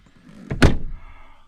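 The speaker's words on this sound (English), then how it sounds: "Door shut, locked good, pulled open, back in business." A Volkswagen Passat rear door, after cable, handle and latch repairs, swings shut with a single loud close thunk as the latch catches, followed by a brief fading rattle.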